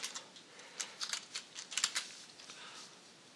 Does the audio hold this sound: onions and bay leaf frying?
no